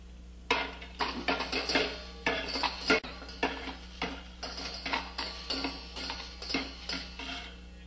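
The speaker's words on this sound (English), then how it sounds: "Egg beater." A hand-cranked egg beater whirs and clatters in a kitchen bowl, giving repeated short bursts of rattling, scraping strokes in an irregular rhythm, close and moderately loud over a low hum.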